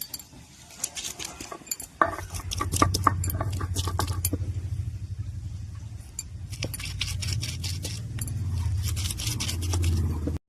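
Chopped giant taro (maan kochu) being ground for chutney, heard as close rhythmic scraping and grinding strokes, repeated steadily with brief pauses, loud against a quiet kitchen background.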